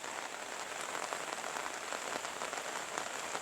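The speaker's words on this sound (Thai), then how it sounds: "ฝนลินอย่างนี้ก็อากาศก็เย็นสบาย ไม่ร้อน" Steady rain falls over rice fields and farmland, a dense, even patter of drops heard up close throughout with no voices.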